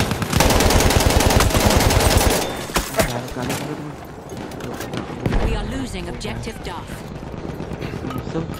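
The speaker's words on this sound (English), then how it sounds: "I'm gonna switch to the support class with the Bar M1918 Trench" Rapid bursts of automatic fire from a BAR M1918 Trench machine gun in the World War One shooter Battlefield 1, a loud sustained volley at first, then scattered shots, battle noise and sporadic firing continuing around it.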